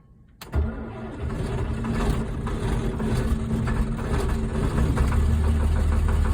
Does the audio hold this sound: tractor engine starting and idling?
yes